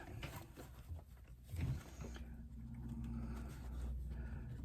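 A sewing machine stitches inside a bag near a chalk line, giving a steady low mechanical whir that runs continuously from about two seconds on. Before it starts there are brief handling bumps, with a little speech in the background.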